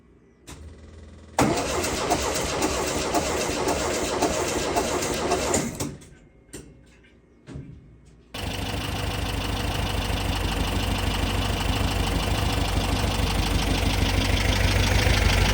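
A freshly rebuilt engine in a shop cranks and fires after a few attempts, each start bursting loudly and then cutting off, before it catches and settles into a steady, close idle.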